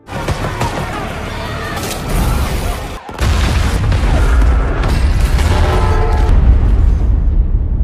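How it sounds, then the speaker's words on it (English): A huge film explosion from a plane fuel leak roars loud and close, a dense sustained blast that cuts out briefly and then swells into a heavy, rumbling fireball that carries to the end. "Seeing the huge explosion, Allison remained calm"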